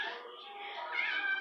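A house cat gives one drawn-out meow, close and moderately loud, rising slightly toward the end, alone without other voices.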